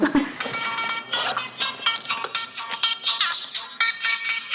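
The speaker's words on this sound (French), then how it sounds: "Décrocher un téléphone en plein entretien d'embauche, normalement ça ne se fait pas." A telephone rings during a job interview, a bright repeating electronic ringtone that plays on steadily at close range, with a voice briefly heard alongside it.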